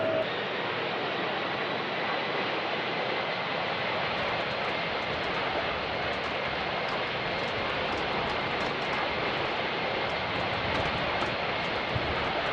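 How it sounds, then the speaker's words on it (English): Jet engines of an airliner taxiing toward the runway, a steady loud broadband roar with constant hiss, unbroken and even throughout with no talking. "With engines powering up and the plane taxiing to its designated takeoff position,"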